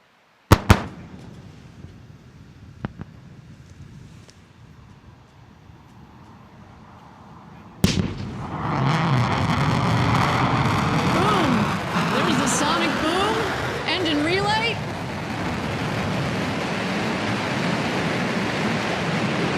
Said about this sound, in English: we will look for the firing of the BE-3 rocket, sorry, the BE-3 engine, that is, that will slow it to just 4 or 5 miles an hour